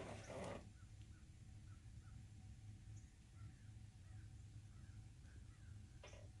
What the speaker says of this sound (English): There's birds tweeting and one going, crow or something